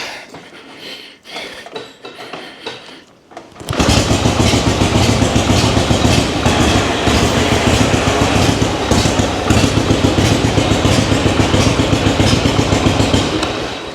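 Harley Panhead motorcycle engine with a rebuilt four-speed kickstarter fires up after a few seconds of quieter rattling, then runs loud and steady with a rough, pulsing idle close by.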